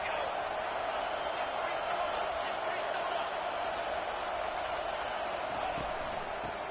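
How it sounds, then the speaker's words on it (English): A loud, steady roar from a large stadium crowd at an Oregon vs Tennessee football game, sustained without a break throughout. "It is getting loud as this crowd tries to help its defense."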